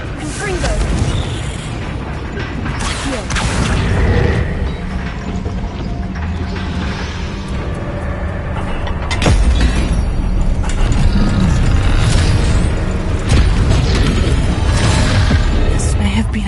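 Loud blast from a Confringo fire spell cast in the Hogwarts Legacy game, a sharp hit near the middle followed by a dense rumbling and crackling wash of battle noise that stays heavy throughout.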